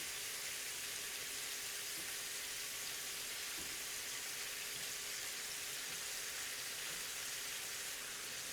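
Shrimp frying in a hot pan give off a steady, even sizzle that fills the whole stretch, close and moderately loud, with a faint soft tap partway through and no voices.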